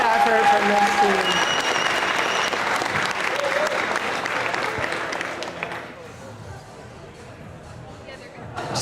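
A crowd applauds a climbing team at the Rabble Rouser 2025 climbing event. The loud, thick clapping is mixed with cheering and babble, then eases off toward the end as general crowd noise carries on.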